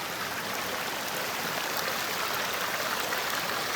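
Steady, broadband rush of flowing water on a rainy Naneghat trek, a continuous close stream or runoff hiss without pauses or voices.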